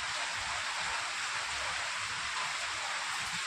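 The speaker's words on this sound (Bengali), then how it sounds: "দেখাচ্ছি তোমাদের কীভাবে বৃষ্টিটা হচ্ছে" Steady, heavy rain pours down outside a home and courtyard, a dense, continuous hiss that fills the whole stretch without pause and with no voices.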